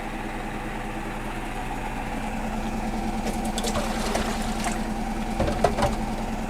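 A Hotpoint washing machine runs with a low, steady hum and vibration. Rattling knocks and clatters build toward the end, including a sharper bump. The sound is moderately quiet and has no voices over it.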